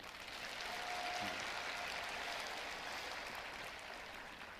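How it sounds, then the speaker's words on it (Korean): An audience at a corporate business event gives sustained applause. It is faint and distant, a steady wash of clapping that slowly fades. "우리 뜨거운 감사의 박수 한번 부탁드립니다"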